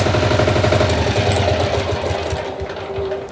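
The Motor Sich MB-12DE 12 hp diesel walk-behind tractor engine chugs in a rapid, rhythmic knock up close, then slows and fades as it shuts off near the end.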